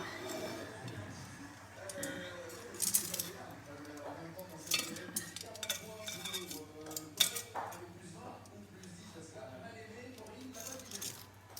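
Golden fried breaded shrimp set onto a plate in a home kitchen, with soft clinks and light taps of utensils and crockery scattered through the clip over a low steady background hum.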